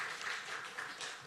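During a Christmas service, a church congregation gives the choir a brief, soft round of clapping. The sound is faint and slightly distant and lasts only about a second.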